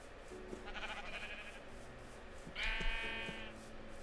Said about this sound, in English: keeping my eyes out for brown sheep.